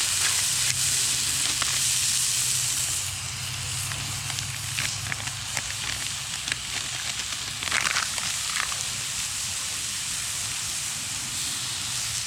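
Fajita seasoning mix and water sizzle loudly in a pan on a hot tent stove during a snowstorm camp, a close, continuous hiss and crackle with occasional stirring and no talking.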